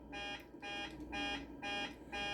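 A cockpit alarm sounds in Microsoft Flight Simulator 2024, a repeating electronic buzzing tone pulsing about five times in steady rhythm, quiet and continuous.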